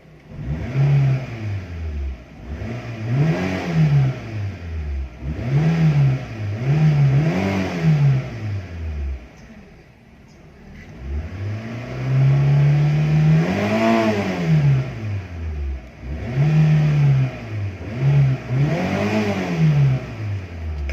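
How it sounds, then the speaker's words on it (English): A 2004 Hyundai Atos engine revved repeatedly while stationary, each blip rising and falling in pitch, with a longer sustained rev near the middle, loud and close with no talking. "when you hear the engine revving"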